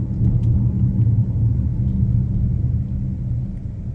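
A 2026 GMC Terrain Denali in all-wheel drive pulls forward under moderate throttle, heard from inside the cabin as a steady, deep engine and road rumble that eases slightly toward the end.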